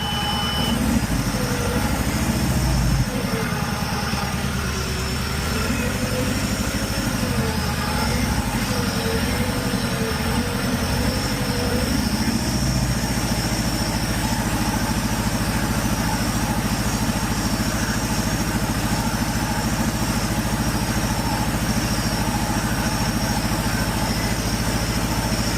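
Forklift engine idling steadily with a misfire, a continuous low rumble with an uneven pulse, loud and close throughout, no talking.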